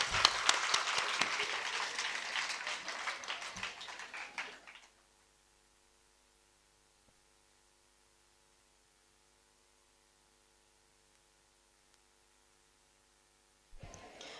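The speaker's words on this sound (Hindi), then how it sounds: "अपने लिए जोरदार तालियां" Applause from an audience at the close of a session, a dense wash of clapping that fades out after a few seconds, leaving a quiet stretch of room hum before a faint burst returns at the end.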